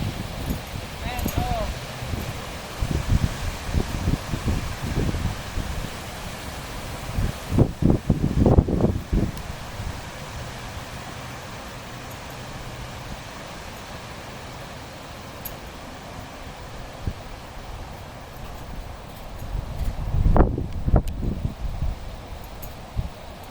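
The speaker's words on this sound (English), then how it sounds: "The wind's really blowing." Wind gusting outdoors in an Alabama backyard, with steady rushing noise and low rumbling buffets against the microphone that swell strongly at a few moments.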